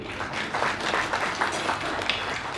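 Audience at a Diwali get-together claps in a short burst during a stage comedy performance, a fairly loud, dense patter of many hands lasting a couple of seconds.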